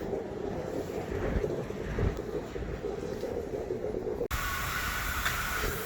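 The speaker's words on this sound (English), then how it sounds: "high pressure rinse, High pressure rinse" A high-pressure rinse wand sprays a car at a car wash with a continuous, rough roaring hiss. The tone changes abruptly near the end, as if the spray shifts to another spot.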